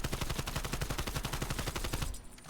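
An AK-74U fires in Call of Duty: Black Ops Cold War, a loud, rapid, continuous automatic burst that stops abruptly just before the end, with no talk.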